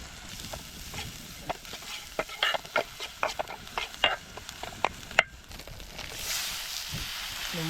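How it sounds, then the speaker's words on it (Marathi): Turmeric and spice masala is mixed by hand, giving a series of close, irregular sticky stirring and tapping sounds over a faint background, ending in a louder rustle. "सगळे मसाले मिक्स आहेत मिक्स केले सगळे मसाले"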